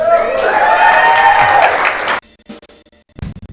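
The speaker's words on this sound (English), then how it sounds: "give him a round of applause" A late-night talk show studio audience applauds loudly for about two seconds before the sound cuts off abruptly, leaving near silence broken by a few short bursts.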